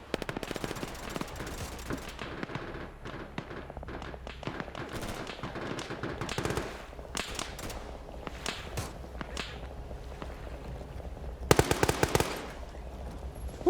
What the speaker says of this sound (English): You can still hear that tank in the background just picking off infantry